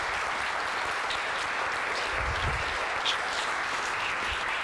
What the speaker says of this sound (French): j'aimerais ça qu'on lui fasse une main d'applaudissement